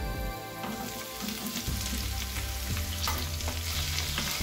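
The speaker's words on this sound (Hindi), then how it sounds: "गोल्डन ब्राउन होने तक हमें फ्राई करना है" Two large onions, sliced long and thin, fry in a pan, a dense even sizzle close by with a low bubbling rumble building after the first second and stirring scrapes.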